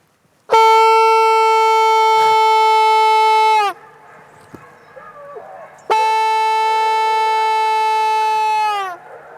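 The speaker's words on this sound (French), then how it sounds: "je vais sonner le début de battue" Hunting horn sounding the start of a wild boar drive in Lozère, two long loud sustained blasts, each a few seconds with a slight drop in pitch at the end, separated by a short gap of faint outdoor noise.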